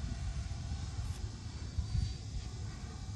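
A Freewing F22 Ultra Performance 8S 90mm RC jet flies overhead with a faint, steady ducted-fan roar. The whine stays distant and even throughout and swells only slightly.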